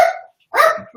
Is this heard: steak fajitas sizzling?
no